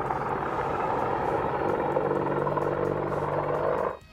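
An AH-64 Apache attack helicopter roars steadily at close range, a dense broadband rotor and turbine drone with a low throbbing hum, sustained for about four seconds before cutting off abruptly.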